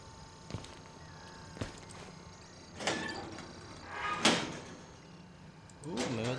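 A door swings shut inside the Outlast horror game, a short sharp knock standing out against a low hum, with a few scattered knocks and scrapes around it and a voice talking briefly near the end.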